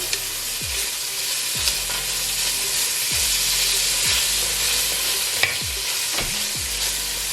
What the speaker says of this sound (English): we're just gonna get a nice little brown on them, a little sear. Make sure you stir them around so they don't burn.